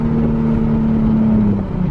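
Nissan 370Z pulling away from a stop sign in first gear, a loud close engine note with a steady low drone rising slightly in pitch over a couple of seconds, no voices.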